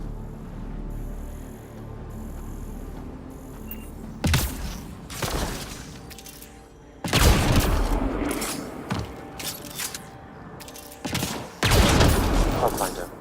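Gunfire and the explosion of a volatile canister in the video game Mass Effect Andromeda, with loud bursts of rapid shots and booming blasts that come in several waves over game ambience and a speaking voice.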